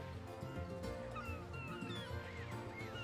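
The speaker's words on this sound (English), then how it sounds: "It's fucking just seagull noises continuously." Repeated seagull squawks and cries sound continuously over a dense, busy soundscape in the video game New Pokémon Snap, with a steady low rumble.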